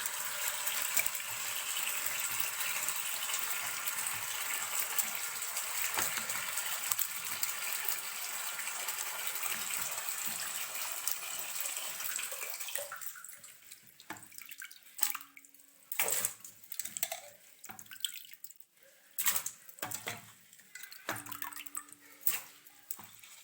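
Running water gushes steadily at first while turmeric is washed, then gives way to intermittent splashes and drips as the flow stops and starts.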